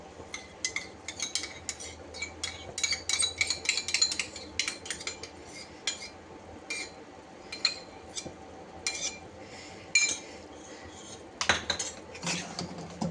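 A metal spoon clinks and scrapes in a bowl while yogurt is worked into raw chicken, a busy run of quick close taps with brief pauses, fairly quiet and with no talk.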